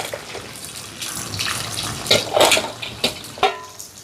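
Water poured from a pot over small crabs cooking for a crab fry, a short, bright splashing pour with a few metallic clinks of the pot, close by and with no talking.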